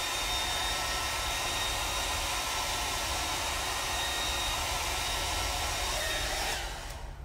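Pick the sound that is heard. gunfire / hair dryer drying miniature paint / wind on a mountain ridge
hair dryer drying miniature paint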